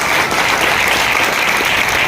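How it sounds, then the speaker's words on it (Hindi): Loud, steady applause from an audience at a sales plan presentation, a dense continuous wash of clapping with no break. "उनके लिए भी जोरदार ताली होगी।"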